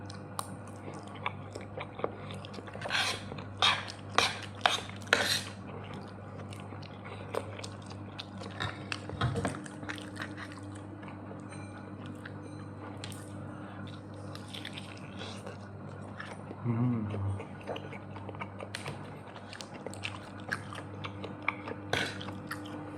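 Close, quiet chewing and biting of tender chicken, bursts of moist crunchy mouth sounds clustered early on, then softer intermittent mastication over a faint steady hum.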